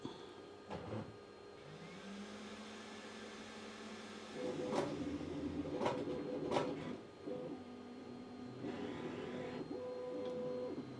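A K2 Plus 3D printer runs its nozzle-cleaning routine, giving off steady motor whirs with rising stepper tones and a few sharp clicks and knocks, close and fairly loud, with no speech.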